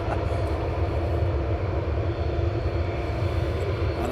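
Jet aircraft engines roar steadily as planes accelerate down the runway at East Midlands Airport in the early morning, a loud continuous rumbling drone heard from a distance.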